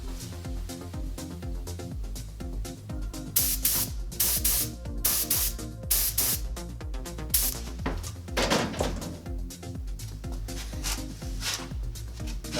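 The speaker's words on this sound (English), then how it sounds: "I'm going to start out by spraying my small pieces right here." A spray gun applies olive paint to small parts in a paint booth, giving repeated hissing bursts of varying length with short pauses between passes, close and fairly loud.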